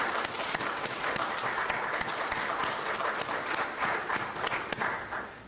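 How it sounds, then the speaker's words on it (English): Steady applause from a graduation ceremony audience for a William Blount High School graduate at a military graduation, dense clapping that holds evenly at moderate volume from start to finish with no talk. "Please help me congratulate Chase through a round of applause."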